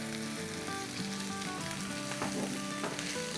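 Frozen mixed vegetables sizzle steadily in a hot pan while a frittata is being made, a continuous close frying hiss with occasional louder crackles and no talking.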